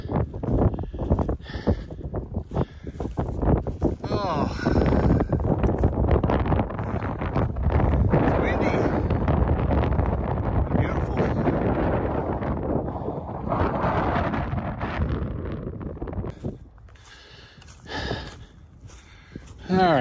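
Strong wind buffets the microphone on a mountain hike in the Rockies' Sheep Valley, a loud roaring rumble that rises and falls, with heavy breathing and sniffs close by.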